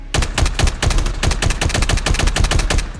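Rapid automatic gunfire from a scoped rifle in the mobile shooter game Call of Duty Mobile, a steady burst of about twenty loud, evenly spaced shots filling the whole stretch with no talking.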